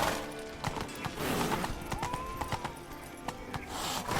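Roach the horse gallops in The Witcher 3, hooves clip-clopping in a fast, even rhythm close by over faint background sounds.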